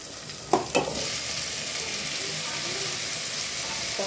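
Tomatoes sizzle in a pan for chicken curry, a steady soft frying hiss with a couple of quick stirring clatters near the start.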